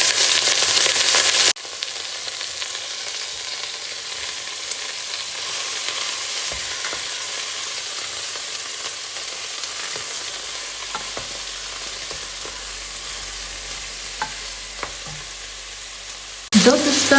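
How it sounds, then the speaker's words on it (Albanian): Red onion frying in a pan, being stirred steadily; a loud, even sizzle runs throughout with occasional spoon scrapes, louder at the start and end, and no talking. "Do të shtojmë një lug çaj me kryp dhe do e skuqim vetëm 5 minuta."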